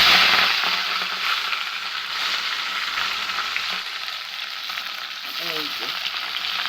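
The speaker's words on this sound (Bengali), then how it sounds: "এই যে সবজি কেটে ধুয়ে রেখেছি, এখন এগুলো তেলের মধ্যে দিয়ে দিব" Freshly cut, washed vegetables hit hot oil with a loud, close crackling sizzle that settles into steady frying, with a brief voice near the end.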